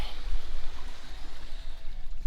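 Creek water at a gold prospecting spot runs steadily, a broad continuous rush and babble holding close and fairly loud for the whole stretch, with no voices over it.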